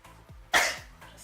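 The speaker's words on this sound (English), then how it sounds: "That was a sneeze, not a cough." A single sharp sneeze bursts out close by, short and breathy, with quiet sounds around it.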